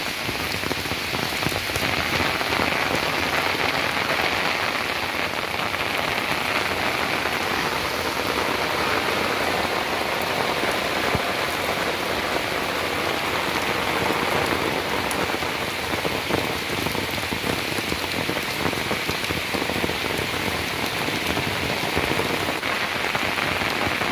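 Heavy rain pours down steadily, a dense, loud hiss of drops drumming on surfaces that never lets up, with no voices.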